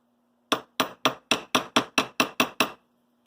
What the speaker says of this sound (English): Tiny ball peen hammer, tiny anvil.